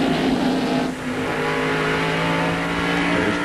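NASCAR stock cars roar past on the road course at Watkins Glen during the 1997 race, a loud continuous engine howl from several cars with a brief dip in the middle, close to the track.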